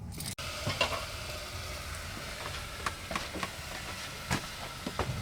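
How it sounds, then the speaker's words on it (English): A pre-made meal reheating in a pan inside a camper van, a soft steady sizzle with occasional clinks and stirring scrapes, close by and fairly quiet, with no talking. "I'm cooking our first meal in the van"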